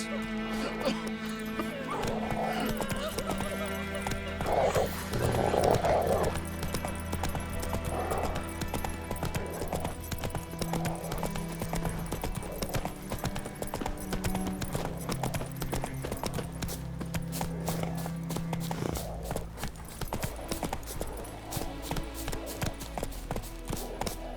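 Roach, the horse in The Witcher 3 video game, galloping, with rhythmic hoofbeats running steadily for the whole stretch over a layer of other game sounds.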